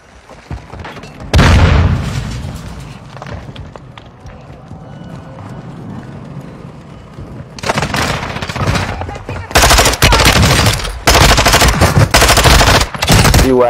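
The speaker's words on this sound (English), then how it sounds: "They're gunning for me." Video-game combat with loud bursts of automatic machine-gun fire and booming shots, quieter scuffling and distant action between volleys, ending in several heavy sustained bursts.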